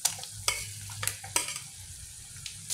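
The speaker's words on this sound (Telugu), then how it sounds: "ఇప్పుడు చికెన్ వేసేస్తున్నానండి" Chicken pieces dropped into a hot pan with garam masala, coriander powder and red chilli for biryani gravy, crackling and sizzling nearby with several sharp clattering stirs of a spoon against the pan.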